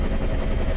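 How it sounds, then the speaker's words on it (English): Dense, close rotor thump and turbine roar of a Bell UH-1 Iroquois Huey helicopter in Flight Simulator X, a brief steady burst with no talk. "Flying a helicopter."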